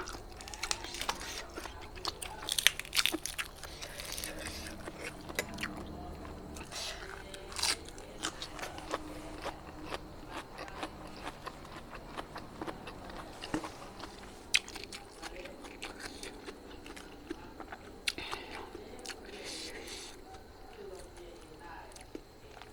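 Blanched beef tripe being bitten and chewed, repeated close crunchy bites and wet chewing in an irregular rhythm, with someone speaking quietly between mouthfuls.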